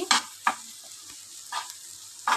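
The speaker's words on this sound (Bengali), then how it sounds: "দেখো খুব সুন্দর করে মশলার সাথে এটাকে ভেজে নিয়েছি।" Catla fish roe and potato fry with spices in a pan, with a few sharp scraping stir strokes spaced apart over a soft, low sizzle, close and fairly quiet.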